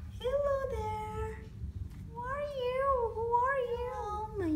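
A pet cat meows indoors, a drawn-out meow followed by a longer wavering one, close by, with a person talking softly at moments.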